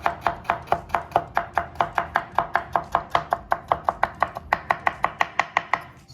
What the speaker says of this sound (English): now we're gonna mince the ginger